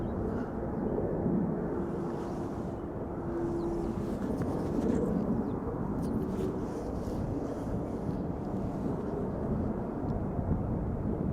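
An Air Baltic Airbus A220-300 (Bombardier C Series) jet at Schiphol Airport gives a steady, broad engine roar that holds for the whole stretch, mixed with wind buffeting on the microphone.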